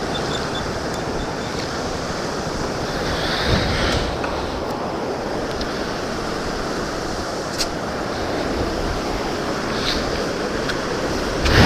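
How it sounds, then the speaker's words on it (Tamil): Heavy water roars steadily from the opened gates of the Mettur dam in Tamil Nadu, a broad continuous rush with wind buffeting the microphone, loud and unbroken throughout with no talking. "தண்ணி நிறைய வந்துட்டு இருக்கு."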